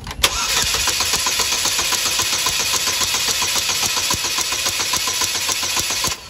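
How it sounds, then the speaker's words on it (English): A Chevy HHR engine with a P0300 misfire cranking over continuously, a steady rapid chugging rhythm of the starter turning the motor, loud and close, with no voices. "I'm gonna go ahead and crank the engine over and see what we got"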